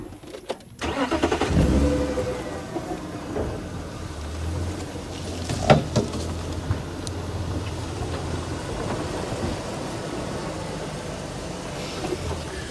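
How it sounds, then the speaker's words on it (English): A safari vehicle's engine starts and rumbles as it is repositioned, a low, moderately close idle and drive with a few clunks and bumps over the rough ground. "I'm just going to move the vehicle a little bit."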